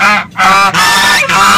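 Domestic breeder geese honk loudly and close, three harsh nasal calls in quick succession with short gaps between them.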